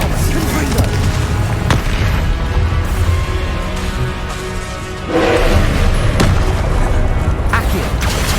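Spell explosions and combat in Hogwarts Legacy on PS5, with loud booming blasts and crashing impacts layered over continuous battle noise and game music, with a voice shouting spell names over it.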